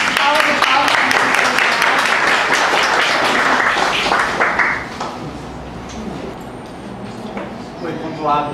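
Seminar audience clapping, a burst of applause for about five seconds that stops abruptly, followed by a quieter room with a voice speaking.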